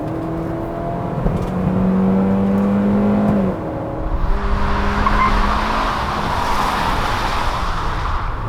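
2020 Hyundai Venue subcompact SUV accelerating on a test drive, its automatic gearbox stepping through shifts: a steady engine hum drops in pitch at each change, then broadens into rushing road and wind noise.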